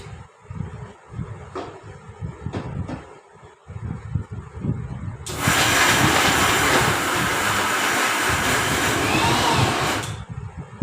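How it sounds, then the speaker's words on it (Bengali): Electric grinder blending a sesame spice filling paste for stuffed bitter gourd, starting abruptly after quieter kitchen knocks and running as a loud steady whir for about five seconds before cutting off. "এবার এইটাকে আমি চট করে পিষে নেবো"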